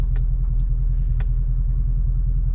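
A Denali pickup truck pulls up to a house, its engine giving a steady, close, low rumble with a few faint higher clicks and no talking.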